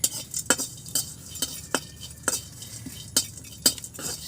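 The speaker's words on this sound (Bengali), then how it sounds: "শুটকিটা একটু টেলে নিব, হালকা একটু গন্ধটা চলে যাবে।" A metal spatula stirs and scrapes dried fish as it dry-roasts in a pan in a village kitchen, with about eight evenly spaced clinks and scrapes against the pan over a low, steady background.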